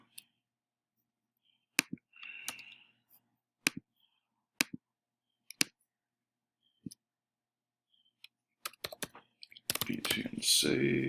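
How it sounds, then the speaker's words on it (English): Computer mouse clicks while control-clicking in an iOS development tool, sharp isolated clicks spaced irregularly over several seconds, ending in a burst of quick clicks and clattering keyboard activity. "Control clicking as I'm bringing these over."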